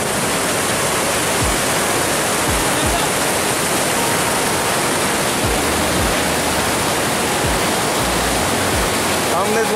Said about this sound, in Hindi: यह पानी का शोर बहुत है